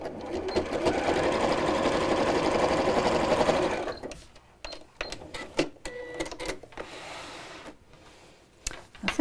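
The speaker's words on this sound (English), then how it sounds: "I'm just going to sew this on my sewing machine" A sewing machine runs steadily for about four seconds, stitching a fabric bag with white thread, then stops and gives way to short clicks and handling noises of the fabric.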